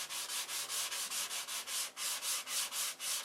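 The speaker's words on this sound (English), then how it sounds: "And I'm sanding with 320." Rapid rhythmic strokes of hand sanding with 320-grit sandpaper, a gritty back-and-forth rasp repeating about four times a second, close and fairly quiet.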